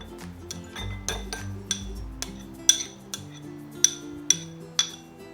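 A utensil clinks sharply against a bowl again and again as garlic and capers are stirred together, a quick irregular tapping close by with no talking.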